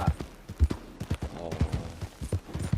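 In the Red Dead video game, a horse's hooves clip-clop in a steady, even rhythm at a trot, close and distinct over faint background sound.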